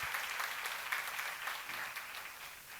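A church congregation at a seminar sermon claps together on cue, a soft, steady patter of many hands heard at a distance, continuous and fairly faint with no voices over it.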